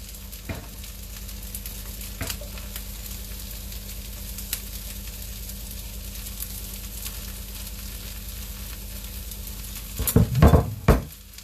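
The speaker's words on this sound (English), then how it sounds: "So we're going to add in our carrots and our bok choy." Carrots and bok choy stir-frying in a hot pan, a steady close sizzle throughout with a few utensil clinks and louder scraping stirs near the end, no talking.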